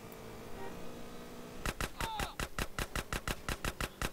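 Rapid bursts of gunfire from a GTA San Andreas shootout, a steady series of sharp, evenly spaced shots beginning partway through after quieter game ambience, loud and close.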